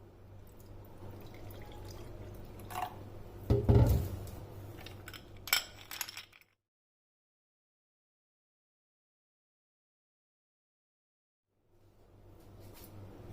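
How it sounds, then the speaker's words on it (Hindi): Plum and tamarind syrup is spooned into a glass for a sharbat: soft close liquid drips and a few sharper clinks against the glass, then several seconds of silence before faint sound returns. "1 गिलास में तकरीबन 3 से 4 टेबलस्पून शरबत डाल देना है।"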